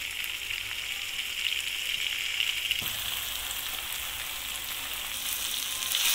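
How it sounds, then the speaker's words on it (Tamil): Gooseberries with rock salt fry in oil for a pickle, giving a dense, even sizzle like steady rain that continues throughout, with a single soft knock partway through. "இது ஒரு 5 நிமிஷம் நல்லா எண்ணெயில் வதங்க வச்சுக்கலாம்"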